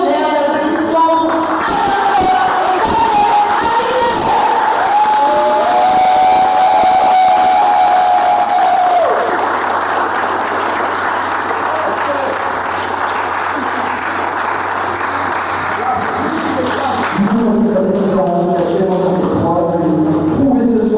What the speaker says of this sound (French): Mesdames et messieurs, vous pouvez faire un tonnerre d'applaudissements